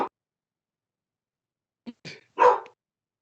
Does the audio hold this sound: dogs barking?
yes